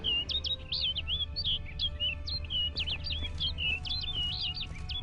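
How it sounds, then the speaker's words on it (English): Repeated bright bird chirps and tweets from The Witcher: Blood and Wine, quick irregular calls running continuously over a soft ambient game backdrop, no voices. "Looks like the bird's leading me somewhere."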